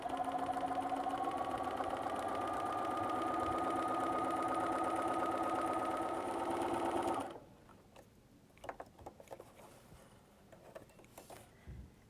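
Sewing machine fitted with a walking foot quilting a straight line along a seam, humming steadily and evenly for about seven seconds, then stopping, followed by faint handling clicks.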